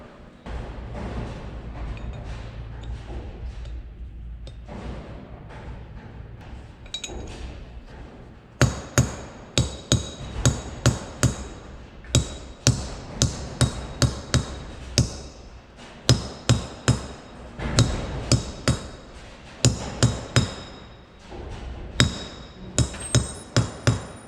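Repeated sharp metal hammer strikes drive wheel bearing races into a cart wheel hub, landing in irregular bursts of close, ringing taps after a quieter stretch of low workshop rumble.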